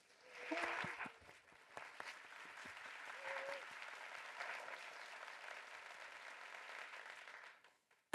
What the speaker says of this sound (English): So let's give him a quick round of applause.